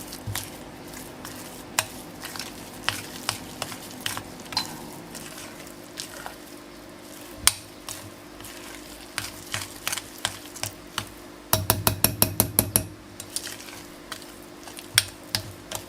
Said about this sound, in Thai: พยายามตีเนยให้แตกอย่างนี้นะ